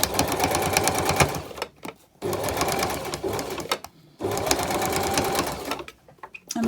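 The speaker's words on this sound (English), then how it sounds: "sewing a few millimetres from this original seam line here" A domestic sewing machine stitches a fabric seam a few millimetres from the original seam line, running in steady loud bursts with two short pauses between them, and no voices are heard.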